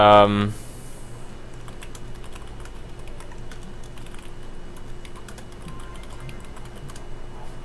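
Fingers type on a computer keyboard during a League of Legends match, a steady patter of soft key clicks running throughout under faint game background sound.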